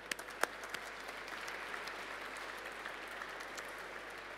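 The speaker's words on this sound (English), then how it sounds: "So a round of applause for Steve and David" Guests at a benefit dinner give steady, moderately distant applause, with a few sharper individual claps standing out early on.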